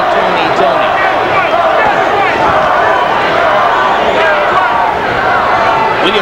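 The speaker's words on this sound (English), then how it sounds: "Now the crowd begins to chant, Toney." A large arena crowd at a boxing match between James Toney and Prince Charles Williams roars and chants steadily, a loud, continuous wash of voices with a commentator talking over it.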